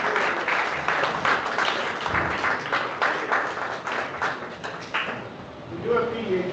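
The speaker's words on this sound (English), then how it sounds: "let's give a final round of applause" An audience at a stormwater system improvements project presentation for Texas A&M University gives a final round of applause, with brisk overlapping claps that rise and fall in bursts before trailing off.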